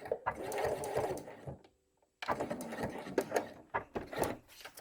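A sewing machine back stitches a fabric bag, running in close, busy bursts with a short pause midway before the rapid stitching picks up again.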